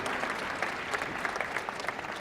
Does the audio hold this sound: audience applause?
yes